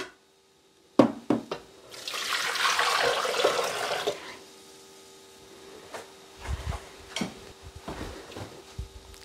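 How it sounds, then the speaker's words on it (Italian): Water pours into a Thermomix TM6 mixing jug for a potato gratin with gorgonzola, a steady splashing stream lasting a few seconds, followed by small clinks and knocks. "Iniziamo la ricetta mettendo all'interno del boccale l'acqua"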